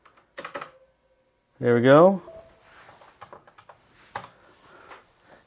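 Scattered keystroke clicks from a desktop computer keyboard tap out in short bursts, close and fairly quiet, with someone talking over them and a brief tonal sound in between.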